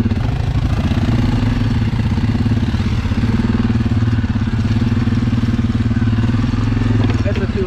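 A quad bike engine runs steadily throughout a rough, rugged trail ride, a close, continuous chugging drone with faint rattles and voices mixed in.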